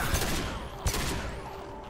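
Rapid gunfire in Mass Effect 2 rattles in a continuous stream with a couple of heavier impacts, moderately loud against combat background noise.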